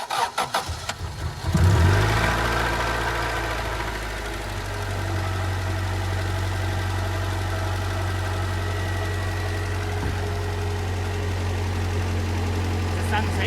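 An Acura DB1 Integra engine with a misfire history cranks for about a second and a half, catches, then settles into a steady, close idle; people talk faintly over it.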